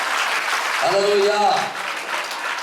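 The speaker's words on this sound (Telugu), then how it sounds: "చప్పట్లు కొట్టి" A church congregation claps hands in a dense, continuous patter during a sermon, while a single voice calls out a short word midway.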